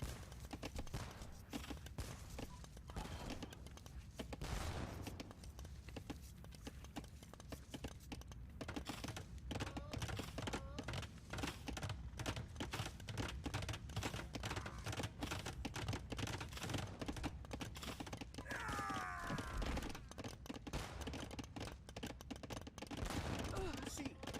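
Organ gun volleys crackle through a busy Age of Empires match, with dense rapid firing sustained throughout and a commentator talking over the battle.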